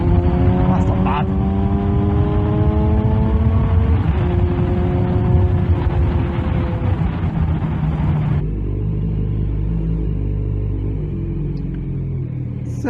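A 2020 Kawasaki Z900RS Cafe motorcycle with Lextek cat-delete downpipes rumbles close by, its engine note rising through revs before easing back to a lower, steadier drone partway through.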